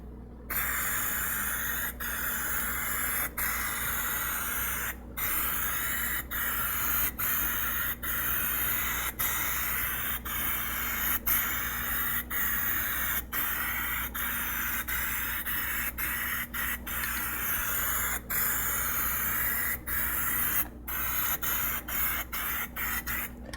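A spray gun applies gunmetal gray Plasti Dip to a car, a steady close hiss that runs almost without break, cut by brief trigger pauses throughout.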